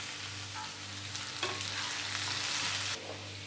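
Green beans and potatoes stir-frying in a pan give a steady, soft sizzle with a constant low hum beneath, interrupted midway by brief scraping and stirring noises as the vegetables are tossed.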